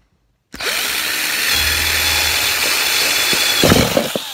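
A power drill runs continuously while boring the final hole in a Christmas tree stand, a loud, close whir that starts abruptly after a short silence and grinds on steadily with slight strain near the end.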